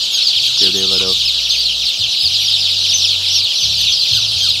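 Three-day-old chicks in a brooding pen, being sprayed with vaccine, make a loud, dense chorus of high peeping, with a few lower clucking sounds and a low hum beneath.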